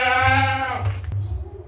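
A tall, long-bodied, large two-toothed male goat bleats loudly and close, one sustained wavering cry that fades, followed by a shorter, quieter bleat.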